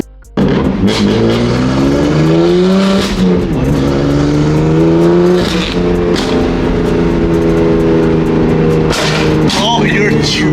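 A BMW F80 M3 with an aftermarket exhaust and flame tune revs hard and loud up close, engine pitch climbing and falling through repeated throttle blips with crackling pops, while people talk excitedly over it.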